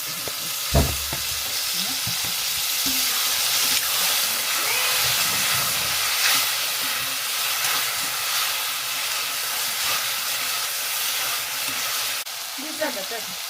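Tomatoes fry in a hot pan with a loud, continuous broadband sizzle and hiss, broken by occasional clinks and stirring scrapes of the utensil against the pan.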